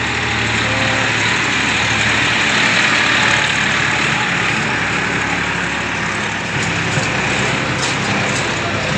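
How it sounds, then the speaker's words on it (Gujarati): A tractor engine drones steadily and fairly loudly as it comes up on a road near Jodhpur fort, a continuous rumbling hum with no break. "ટ્રેક્ટર"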